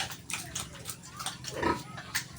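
A pregnant sow grunts several times, close and moderately loud, with short low snorting grunts over a steady background hum.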